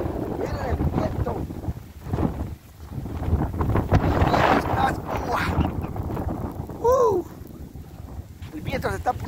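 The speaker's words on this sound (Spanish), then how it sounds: "El viento se está poniendo horrible." Strong wind gusting outdoors during snowfall in Anderson, South Carolina, roaring and buffeting the microphone almost continuously, with someone talking over it.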